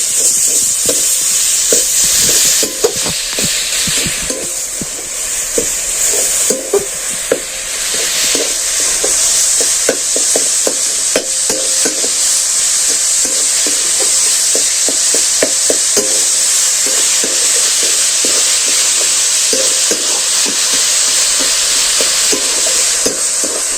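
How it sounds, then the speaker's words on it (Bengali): Jaggery filling for sweet bitter-gourd-shaped pitha being stirred in a pan: a steady bright sizzle runs throughout, broken by a quick, dense rhythm of soft scraping spatula strokes, close and fairly loud, with no voices. "এই গুড় দিয়ে পুরটা করলে কিন্তু টেস্টি খুব বেশি ভালো হয় এটাকে নেড়ে ফেড়ে পিঠটা তৈরি করে নেবো"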